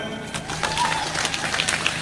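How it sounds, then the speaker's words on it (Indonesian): Audience at an Islamic religious gathering clapping, a moderate wash of hand claps that stays fairly even through a short stretch, with faint background sounds. "Tepuk tangan."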